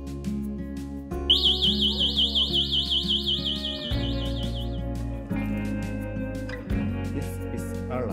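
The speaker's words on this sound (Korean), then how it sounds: "경보기 무선 시동키 사용을 해보겠습니다." An electric scooter's alarm, triggered by its wireless remote, chirps in a warbling, siren-like tone for a few seconds over a steady electrical hum, followed by a few short beeps.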